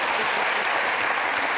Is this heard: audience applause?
yes